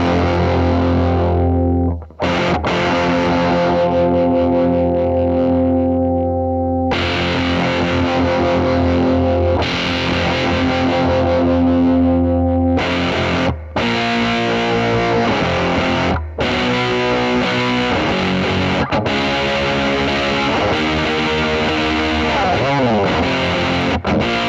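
Electric guitar through a JHS PackRat distortion pedal on a regular drive setting, loud sustained distorted chords and riffs played continuously with a few brief stops, close and alone with no voices.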